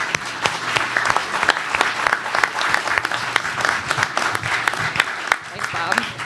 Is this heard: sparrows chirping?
no